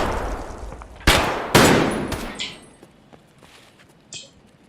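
Gunfire in the video game Escape From Tarkov: two loud, sharp shots close together, each followed by a short decaying tail and faint clinks, with a smaller distant report near the end.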